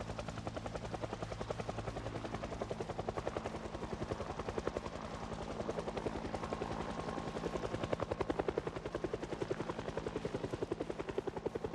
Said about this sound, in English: Boy, that helicopter's loud.